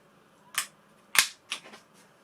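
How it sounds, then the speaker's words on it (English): Three sharp, close plastic snaps from an AAP-01 Assassin Ruger Mk4 blowback airsoft pistol as its bolt cycles back and forward, each crisp click spaced about half a second apart against quiet background. "this is blowback, so it actually has a bolt that comes back and goes forward"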